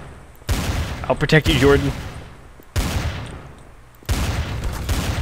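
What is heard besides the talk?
gunfire in the video game Trouble in Terrorist Town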